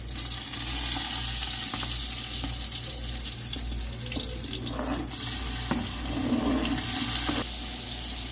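Onions and tomatoes frying in a pan produce a steady, close hiss and sizzle with some watery bubbling that runs continuously, with no voices.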